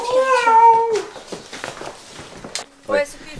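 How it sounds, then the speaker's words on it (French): A large cat gives a drawn-out meow, loud and close, followed by a shorter cry, while people talk quietly nearby. "on entend comme un gros chat. Il est en train de miauler, il est là."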